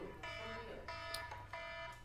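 A harsh electronic alarm beeps in repeated bursts, about three steady pulses, loud and close, over a low background hum.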